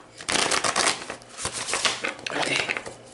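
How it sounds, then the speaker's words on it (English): Tarot cards being shuffled by hand, a dense run of papery riffling and flicking that stays close and fairly loud for about three seconds with brief pauses between bursts. "I'm gonna shuffle"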